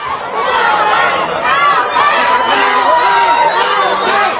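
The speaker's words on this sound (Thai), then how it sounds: "มีแฟน ๆ ทั้งของคุณพิธาของก้าวไกลยังคงเข้ามารอรับเสียงปรี๊ดดังตลอดสองข้างทาง" Fans lining both sides of a political leader's route cheer and scream in high, wavering shrieks over a loud crowd babble, with voices rising and falling close by throughout.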